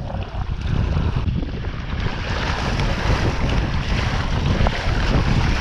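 A Hobie Adventure Island sailboat moves steadily over open water, with constant wind buffeting the microphone and a broad wash of waves and hull noise that stays loud and even throughout, with no talking.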